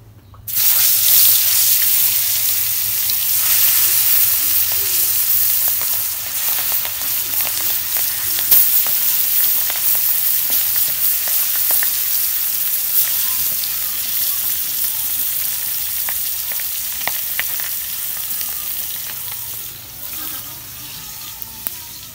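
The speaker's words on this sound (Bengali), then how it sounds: "তেল গরম হয়েছে, এখন আমি মাছ দিয়ে দিব।" Pangas fish frying in hot mustard oil in a wok, a steady close sizzle with crackling pops that holds throughout, with a faint tap-like hiss in places and no talk.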